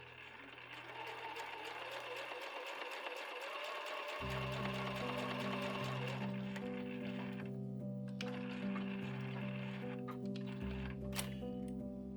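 A sewing machine stitches fabric for a small bag about 24 by 10 by 10 cm with a cute handle, running in a fast, even mechanical whir close up over soft background music.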